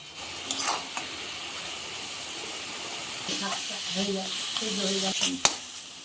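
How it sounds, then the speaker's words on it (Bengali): Chickpea greens being stirred in a pan over steady frying sizzle and steam hiss, with a few soft scraping stir strokes and light clinks near the end. "শাকটা নেড়ে চেড়ে দিলাম"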